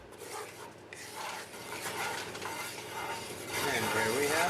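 A spoon scraping and stirring roux in a cast iron pan for gumbo, a steady gritty rasping close by with a faint sizzle, growing louder toward the end.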